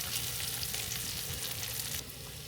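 Tortilla chunks fry in bacon grease in a pan, making a dense, steady crackling sizzle up close with a few light stirring scrapes, easing slightly toward the end.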